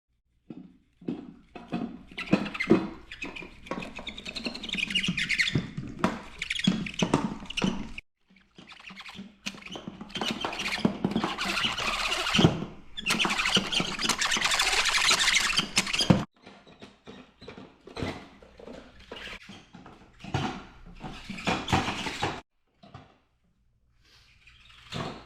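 A fishing reel spooling fishing line, cranked in bursts of rapid clicking, whirring patter with brief pauses between turns, close and fairly loud, no voices.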